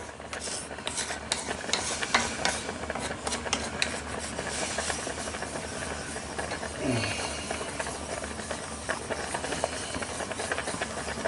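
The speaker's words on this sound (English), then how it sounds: "scrape all the good deliciousness off the bottom of the frying pan" Sizzling and hissing from a hot frying pan while making shrimp scampi, with repeated scraping and stirring strokes lifting onion residue, steady throughout with no talking.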